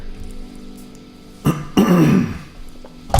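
A person with an irritated throat coughs a few times, sharp bursts separated by pauses, close and loud, one longer rough cough in the middle, in a quiet room.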